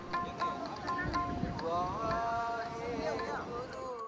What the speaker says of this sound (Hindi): अभी आप देख पा रहे हो कि यहाँ पर जो है बहुत ज़्यादा हवा चल रही है।